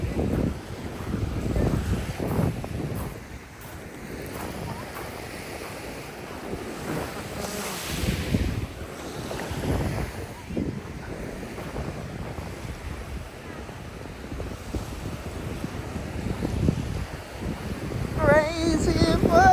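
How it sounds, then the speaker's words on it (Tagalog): Waves wash onto a Sea of Japan shoreline under strong gusty wind buffeting the microphone, with surges of surf rolling in repeatedly and a faint voice now and then. "Hawakan mo na yung dagat ng Japan"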